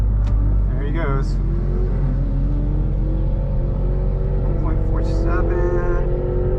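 A Dodge Challenger Hellcat Redeye Super Stock launches down a drag strip, heard from inside the car as a loud, continuous engine roar that builds steadily through gear changes, with a brief voice near the start.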